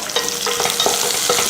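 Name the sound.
sautéing chopped onion with crushed garlic and ginger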